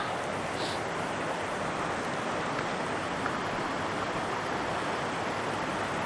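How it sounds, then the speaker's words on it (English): A big backcountry waterfall rushes steadily below in winter, a dense unbroken roar of water heard close and fairly loud, with no talking over it. "I'm above that big waterfall now"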